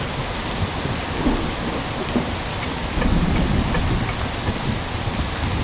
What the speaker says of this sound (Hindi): अरे बाप रे, बहुत बारिश है।